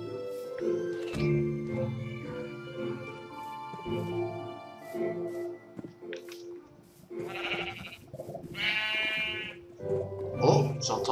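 Sheep bleat repeatedly in the video game Minecraft, loud wavering calls overlapping one another, with someone talking in between.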